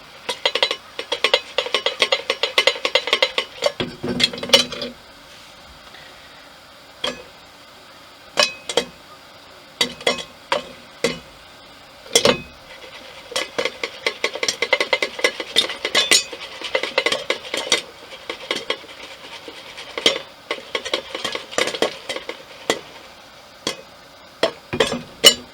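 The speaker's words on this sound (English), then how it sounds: "You can hear them starting to pop in there." Popcorn kernels popping and rattling in a pot shaken over an alcohol stove aboard a boat, with bursts of metallic clatter and scattered sharp pops up close, no talking.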